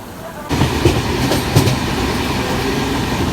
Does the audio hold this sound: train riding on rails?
yes